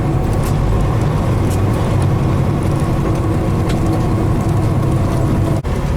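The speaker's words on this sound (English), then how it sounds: "now we're going to do a split downshift" A heavy truck with a 13-speed transmission drones loudly and steadily through a split downshift, its engine and road rumble continuous, with a brief dip near the end.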